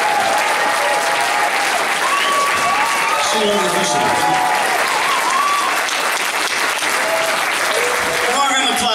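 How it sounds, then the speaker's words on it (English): Festival audience applause at an outdoor music festival, loud and sustained for the full stretch, with a voice talking over it throughout. "Come on, round of applause, keep it going."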